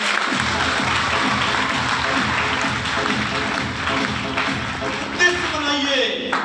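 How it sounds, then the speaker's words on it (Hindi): An audience claps together in a full, steady burst of applause that thins out near the end, with a voice speaking over it. "अपने लिए तालियां ठोको, अपने लिए तालियां"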